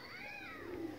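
A cat gives a short meow, a single drawn-out wavering call close by, over a steady background hum.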